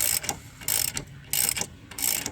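A ratchet spins out a rear upper control arm bolt on a 2000-2015 Ford Focus, sounding in four quick, close bursts of rapid clicking separated by short pauses.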